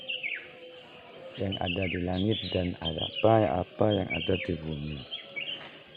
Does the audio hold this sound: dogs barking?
no